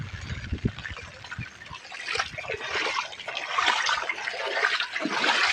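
Steady rushing and trickling rainwater flows continuously after a heavy downpour, with splashy bursts and a broad hiss throughout, close by and fairly loud.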